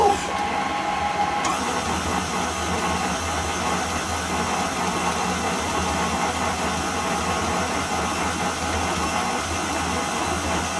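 Food processor running on low while blending gluten-free chocolate cake ingredients, a continuous dense motor whir with grinding texture, steady and close throughout after a brief higher tone at the start, no talking.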